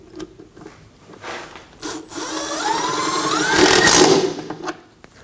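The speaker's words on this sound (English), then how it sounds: "so I'm going to go ahead and use a washer and a self-tapper to re-secure this." A power tool drives a self-tapping screw and washer into a 2015-2024 Ford Edge front fender, a rising whining drive that climbs in pitch and intensity before stopping, preceded by brief clicks and handling noises.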